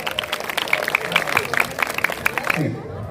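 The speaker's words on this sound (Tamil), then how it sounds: "ஒரு கைத்தட்டி உற்சாகப்படுத்துமாறு அன்போடு கேட்டுக்கொள்கிறோம்" An audience at a youth club's anniversary opening ceremony claps for a ring-spinning performer. The applause is uneven and moderately close, with a voice speaking over it before it cuts off abruptly.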